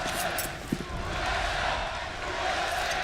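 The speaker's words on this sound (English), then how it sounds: "The crowd trying to get Cloud9 into it." A large arena crowd at a CS:GO ELEAGUE Major semifinal between SK and Cloud9 keeps up a steady roar and cheer while a commentator talks over it, with a single sharp knock near the start.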